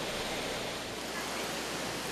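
Rainbow Falls, a waterfall on the Gorge Trail at Watkins Glen, pours in a steady, loud, broadband rush that never pauses, heard up close from behind the falling water.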